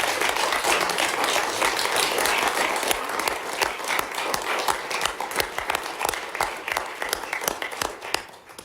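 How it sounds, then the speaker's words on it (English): An audience at a university board committee meeting breaks into sustained applause, dense clapping that gradually thins out as it fades. "I ask that you join me in one more round of applause for her."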